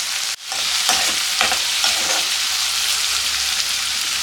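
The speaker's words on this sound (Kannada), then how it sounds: "ಟೊಮೆಟೊ ಇದೇ ರೀತಿ ಎಣ್ಣೆಯಲ್ಲಿ ಫ್ರೈ ಆಗ್ತಾ ಇದು ಸಾಫ್ಟ್ ಆಗಬೇಕು" Tomatoes frying in oil in a pan for tomato rice, a steady loud sizzle with a few stirring scrapes near the start, close and alone without talk.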